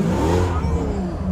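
A truck revs its engine during a burnout, a loud, close roar with rising and falling pitch and faint talk mixed in.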